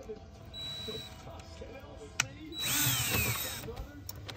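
A power drill drives a screw through a small piece into warped deck boards, with a short whir, a click, then a longer louder whine under a man's speech.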